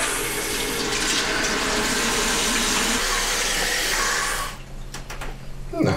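Toilet cistern refilling, a loud continuous hiss and rush of water pouring into the tank that cuts off near the end, leaving quieter trickles and drips.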